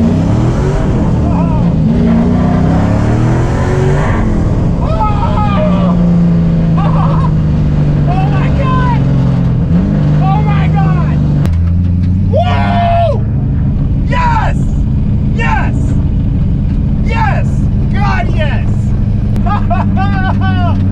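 An LS V8-swapped Mazda Miata is driven on the road, its engine droning steadily and rising and falling through the run, loud and close under someone talking throughout.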